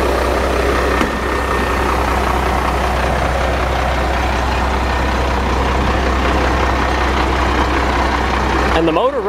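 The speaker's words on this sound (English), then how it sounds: "And the motor runs good." A 1993 Navistar International scrapyard truck engine idles loud and close with a steady, deep diesel rumble throughout, and a voice briefly speaks over it near the end.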